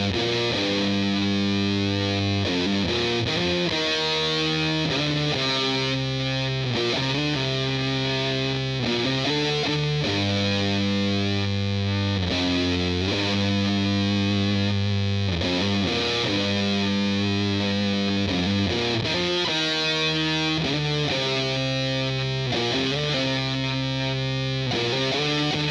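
An electric guitar played through a Donner distortion pedal, producing a thick, saturated, aggressive tone with sustained chords and riffs, loud and continuous with no talking.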